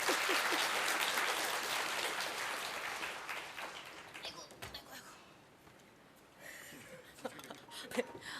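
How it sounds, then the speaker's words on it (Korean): Audience applause at a PyCon Korea 2019 lightning talk session, loud sustained clapping from a crowd that gradually thins and fades, followed by scattered claps and a few light taps as it dies down. "엄청 긴장하셨던 이주영님께 다시 한번 박수 부탁드립니다."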